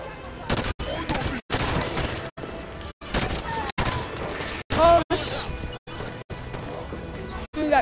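Battle rifle gunfire in the Halo 5 campaign's first level, fired in rapid bursts of loud, sharp shots separated by brief silent gaps, with game ambience and voices mixed underneath.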